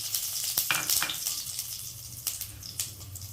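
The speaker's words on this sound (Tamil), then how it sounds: "நல்லா பொரியுது பாருங்க. சோம்பு வாசனை வந்துடுது." Fennel seeds sizzle and crackle steadily in hot oil, with a constant frying hiss and scattered sharp pops, close by and without talk.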